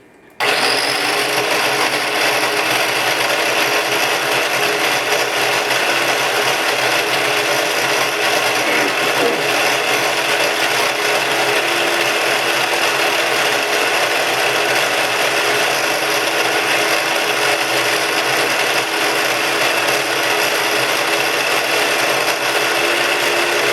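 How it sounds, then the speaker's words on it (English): A small Oster food processor chops sun-dried tomatoes, onions and garlic, giving a steady, loud whirring motor drone with a gritty rasp that runs without a break, close by and with no talk. "Put them in some type of food processor."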